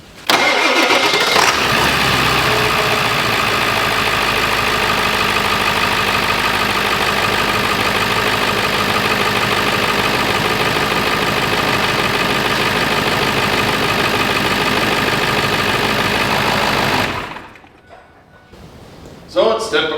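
A 2001 Ford F-350 Power Stroke diesel cranks and catches at close range, then idles in a loud, steady clatter for about fifteen seconds before cutting off, with a brief voice at the end.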